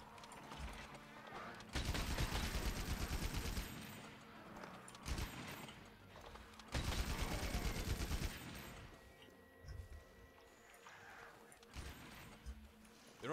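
Weapon fire in Monster Hunter World comes in two dense clattering bursts, each lasting over a second, separated by quieter stretches of game ambience and faint voices.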